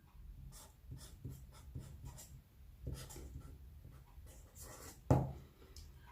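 A pencil drawing a line across a paper bodice block pattern during dressmaking pattern drafting, repeated soft scratchy strokes close by with a louder scrape near the end, no talk.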